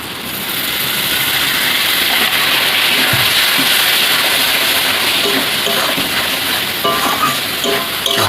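Country chicken and ground spices with chilli, turmeric, cumin and coriander sautéing in oil in a pan, a loud dense sizzle filling the whole stretch with faint stirring scrapes, no talk.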